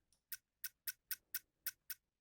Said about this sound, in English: So that's my shaker right there.